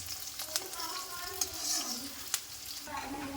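Onions frying with green chilies in a pan, a steady low sizzle with a few sharp clinks of a spoon against the pan and occasional stirring scrapes, heard close up with no talking.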